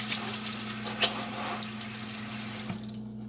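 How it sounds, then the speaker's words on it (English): Kitchen tap running into a sink while hands are washed, a steady close stream of water with a brief splash near the middle, then the flow stops at the end. "Okay, I'm gonna wash my hands here."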